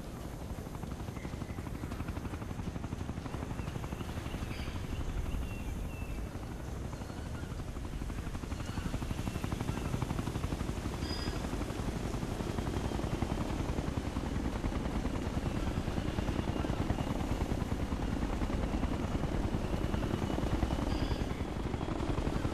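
A helicopter in the video game Ghost Recon Future Soldier, a continuous heavy rotor thrum and engine roar holding steady and fairly loud throughout, with faint scattered game effects beneath.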